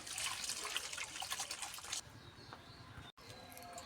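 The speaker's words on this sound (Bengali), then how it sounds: "এবার ধুয়ে পরিষ্কার করে নেব।" Cut potatoes being washed in water, with close splashing, trickling and dripping for about two seconds, then quieter, fainter water sounds.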